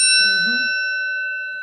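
An old Otis elevator bell gives a single clear ding with a sustained ringing tone that slowly fades; a brief murmur of voices sounds faintly underneath at the start.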